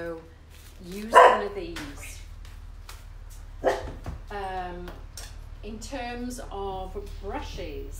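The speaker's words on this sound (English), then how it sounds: "Yeah, that's my dog." A pet dog barks once, sharp and fairly close, early on in a home kitchen where cabinets are being painted, while someone talks steadily over a low background hum.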